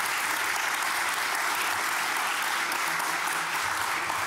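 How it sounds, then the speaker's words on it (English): Conference audience at a metropolitan mobility event's opening session clapping together in a dense, even wash of applause that holds steady at a moderate level throughout. "big round of applause, please"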